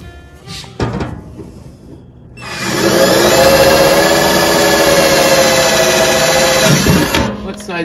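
A power driver with a number 3 bit whirs steadily for several seconds while driving screws into a tailgate table on a 2021 Ford Bronco, loud and close, after some brief knocks and handling sounds.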